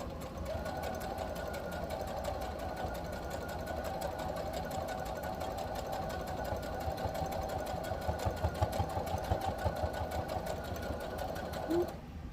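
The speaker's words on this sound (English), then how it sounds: "Lift your presser foot and now you're going to sew going down" A sewing machine runs in one continuous steady hum and rapid needle chatter while stitching a fabric bookmark, close and even throughout with no voices.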